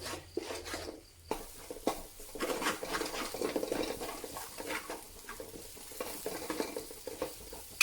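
Masala for kothu parotta is mixed and stirred in a frying pan, soft sizzling under repeated scraping and clanking strokes of a spatula, close and uneven in rhythm.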